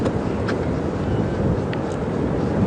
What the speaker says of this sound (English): I'm sure you can hear the wind.